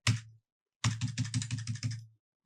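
Computer keyboard keys pressed in tax-filing accounting software: one tap, a pause, then a quick run of about eight even, close clicks, dry and alone.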